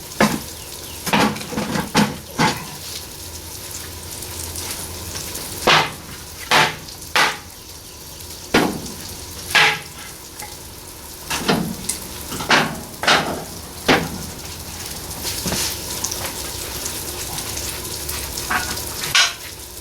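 Wood fire burning outdoors beneath Southern-style cooking, giving off irregular sharp crackles and pops, some in quick clusters, over a steady low hiss, fairly close.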